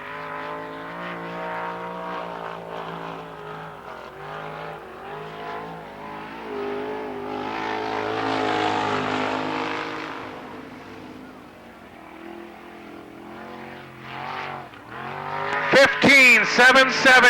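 A race car, Todd Gracie's Ford-powered 17W driven by Tammy Platt, runs a lap at Lernerville Speedway in Pennsylvania: an engine note that rises and falls as it passes, with a loud surge near the end.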